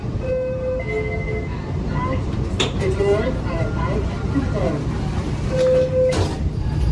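A Caltrain Baby Bullet commuter train rides the rails from San Francisco toward San Jose, a steady interior rumble with faint squeals and clanks, heard from inside a car.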